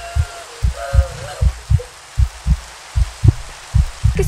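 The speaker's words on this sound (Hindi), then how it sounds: "ये किसकी धड़कनों की आवाज आ रही है मेरे को?" A Minecraft heartbeat thumps in a steady, even rhythm of about two beats per second, low and heavy. A faint voice comes through briefly near the start.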